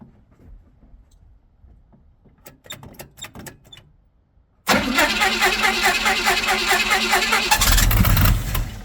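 A 1977 Pontiac Firebird engine cranks with several quick starter clicks, then fires up suddenly into a loud, rough idle that runs steadily before surging at the end; a voice is faintly audible under the cranking.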